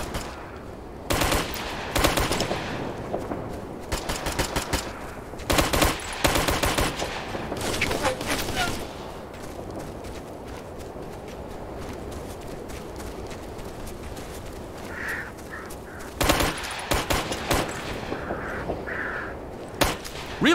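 Rifle and machine-gun fire in Operation Flashpoint: Red River, short bursts and single shots crackling at intervals, some near and loud, others more distant, over a low battlefield ambience.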